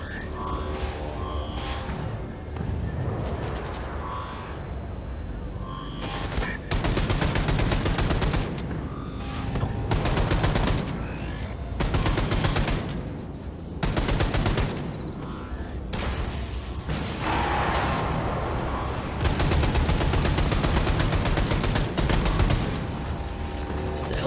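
Enemy soldiers fire guns in Wolfenstein II: The New Colossus on Venus, with dense, loud bursts of rapid fire and mechanical clatter repeating across the stretch with brief gaps and no talk.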